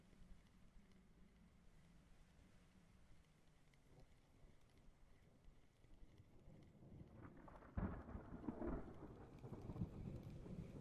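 Faint rain and distant rumbling thunder from the Tunguska area in Russian Fishing 4, a soft steady patter that swells into a louder low roll of thunder near the end.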